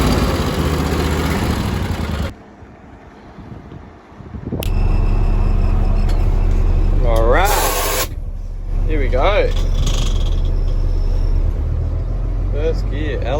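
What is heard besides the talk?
truck engine running, gears grinding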